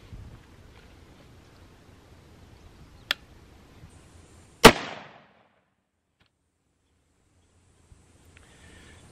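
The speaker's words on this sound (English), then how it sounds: "I'll take the safety off before I fire." A single sharp, loud shot from an H&R SSP-91 Lone Eagle hunting handgun fired outdoors, preceded by a smaller click and followed by a brief ringing decay and near silence.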